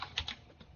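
A password typed on a computer keyboard, a quick burst of a few light key clicks close by, faint and over within a second.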